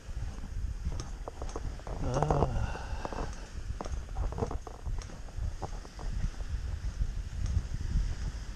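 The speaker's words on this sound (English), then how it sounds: "It's getting a little breezy though." Breezy outdoor wind before a storm, a steady low rumble with gusts buffeting the microphone, continuous and fairly loud for the whole stretch.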